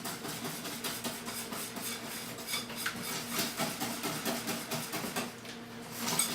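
Rapid rhythmic clinking and scraping of a whisk stirring peanut butter shortbread mixture in a bowl, fast steady strokes close up with no speech.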